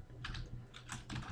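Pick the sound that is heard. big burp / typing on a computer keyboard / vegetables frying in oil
typing on a computer keyboard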